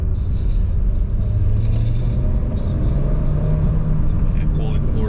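A Chevrolet Sonic accelerating hard at full throttle, heard from inside as a steady loud engine drone with road rumble and rising tone, while someone talks over it.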